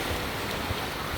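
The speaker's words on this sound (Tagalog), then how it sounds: "Grabe ang alon dito banda, oh, ang lakas." Ocean waves break on the beach at Noja in Cantabria, Spain, a steady, dense roar of surf with wind buffeting the microphone throughout the short stretch.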